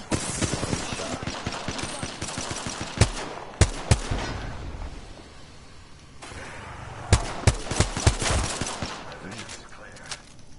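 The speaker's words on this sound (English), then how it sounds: "We are definitely getting shot at." Video game gunfire aimed at the player, with scattered sharp shots and short bursts over continuous game noise, some louder cracks clustered near the middle and the end.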